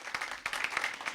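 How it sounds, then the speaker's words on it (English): A school audience at an inter-secondary debate claps for the best speaker, a brief patter of quick overlapping hand claps heard faintly and a little distant, with no voices. "Please give her a round of applause."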